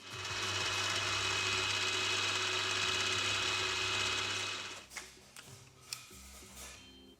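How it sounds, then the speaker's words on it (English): A machine drills and taps an M8 hole for the main stud in a steel boring bar holder, giving a steady loud mechanical whir for about five seconds, then stopping into faint clanks and scattered workshop noises. "I'll punch a hole for the main stud and tap it for M8."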